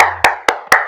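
Three sharp hand claps in an even rhythm, close and loud, each ringing briefly before the next.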